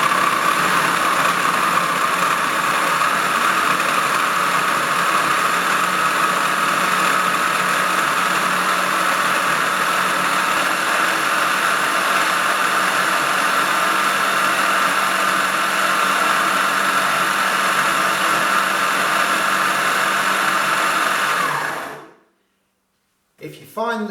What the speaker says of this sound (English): Blend it for approximately 1 minute, and at the end of the blend, when it's about ready, when you know it's fine, the pitch of the motor will actually change